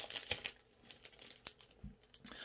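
Crinkly plastic rustling with a few sharp crackles and a short tearing rip, close and fairly quiet, as a zip-lock bag holding tank badges is pulled open.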